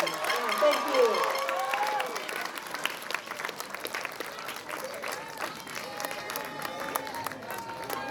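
A crowd applauds at a high school graduation ceremony, a sustained round of clapping with scattered cheers, while a voice speaks over the start.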